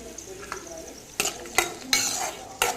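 Red chillies and garlic sautéing in a pan, with a soft sizzle under several sharp spatula scrapes and stirs that come in uneven bursts, close and fairly quiet.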